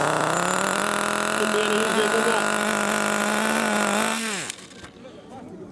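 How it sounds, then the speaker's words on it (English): A nitro glow engine in an off-road RC car screams at high revs in a steady, loud, buzzing whine. It then cuts out abruptly and falls into near silence. "You've got a handheld battery starter that lights the glow start and an onboard motor to spin it over."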